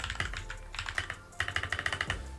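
Rapid typing on a mechanical keyboard fitted with Glorious Holy Panda switches, two bursts of crisp clacky keystrokes separated by a short pause, close and clear with no talking.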